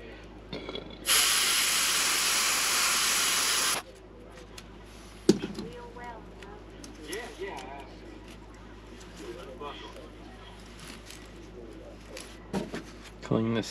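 An airbrush sprays paint onto a swimbait in a pumpkin seed pattern, giving one close, steady hiss of about three seconds that then cuts off, followed by quiet handling clicks and faint background sounds.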